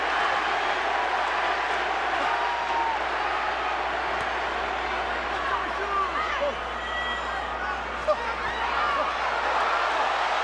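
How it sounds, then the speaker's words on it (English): A large arena crowd roars and cheers steadily at the Pacquiao vs. Clottey boxing fight, a dense sustained wash of noise with scattered whistles and shouts, continuous for the whole stretch. "Crowd wanting to see the knockout."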